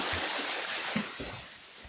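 Water splashing and sloshing in a steady wash of noise, with irregular churning splashes like many triathlon swimmers moving through water nearby.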